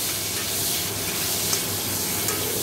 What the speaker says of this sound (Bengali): আর এখানে দেখো আমি কটা চিংড়ি মাছ ভাজছি